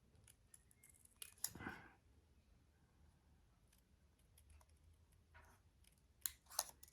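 Scissors snip through paper around a stamped image, making faint, close cuts in a quiet room, with two short louder bursts of snipping and no talking.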